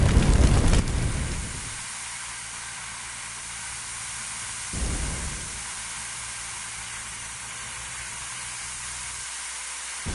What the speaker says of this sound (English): Spray water by using the indicated button.